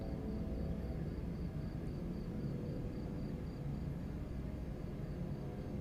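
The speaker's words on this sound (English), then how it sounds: "Still hear the crickets singing." Crickets chirp at night in a steady, faint pulsing trill repeating evenly over a continuous low background hum of distant traffic.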